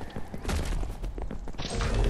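Fireworks burst during Minecraft Dungeons gameplay, a dense run of overlapping pops and thuds filling the stretch over steady game sound, with no speech.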